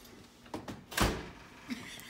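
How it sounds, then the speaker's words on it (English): A GE Profile oven door swings shut with one solid thunk, preceded by a couple of lighter knocks and followed by a faint click, close by and with no talk over it. "And the door shut."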